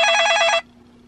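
A cell phone ringtone trills loudly for about half a second, a bright rapid warbling ring that cuts off abruptly, leaving a faint steady hum.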